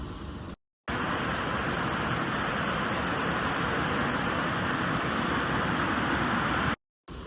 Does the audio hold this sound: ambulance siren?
no